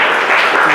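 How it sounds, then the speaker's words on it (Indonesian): Classroom applause for a student group, a dense, steady clatter of many hands clapping close by, filling the short stretch without talk. "Oke, tepuk tangan untuk kelompok 7"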